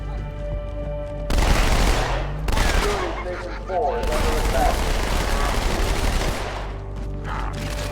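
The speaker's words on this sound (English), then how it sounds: "The dual wielding goes so hard. You just start shooting." Dual-wielded weapons fire in Halo 2, loud continuous bursts of game gunfire in several long volleys with brief gaps, someone talking over the shooting.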